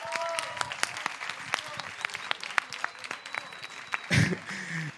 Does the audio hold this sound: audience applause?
yes